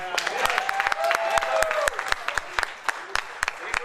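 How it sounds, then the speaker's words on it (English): Workshop participants clap for the canteen staff, a fairly close crowd of hands that thins into scattered individual claps, with voices and a sustained vocal tone audible underneath. "I would like all of you to clap to the canteen people"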